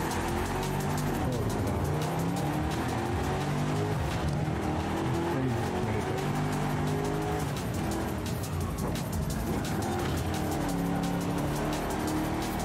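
An old BMW M series car with a supercharger is driven hard in Forza Horizon 5, its engine roaring continuously with tire squeal and skidding throughout, loud and close.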